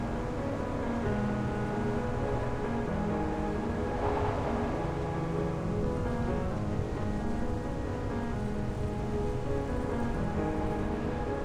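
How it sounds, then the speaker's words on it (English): Steady, dense rain pours through a storm scene in the video game Reverse: 1999. It is a constant loud wash with no clear thunderclap. "Without Xeno's shelter, there's nothing you can do against the storm."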